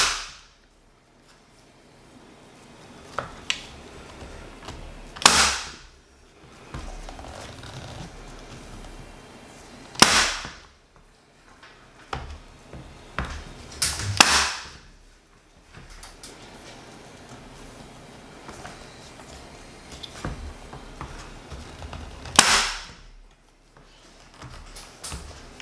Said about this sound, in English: Like I'm going to staple through this L.